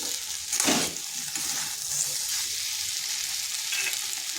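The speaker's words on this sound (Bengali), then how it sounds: "আর এটাকে এইভাবে ভেজে ভেজেই রান্না করব" Potatoes and pointed gourd fry in a covered pan with a soft, continuous sizzle and a brief louder crackle near the start.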